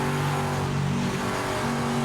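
A race car engine in the Project Motor Racing video game pulls hard under acceleration, giving a loud, continuous high-revving tone with no pauses.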